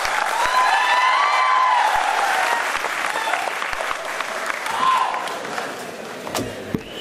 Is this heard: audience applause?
yes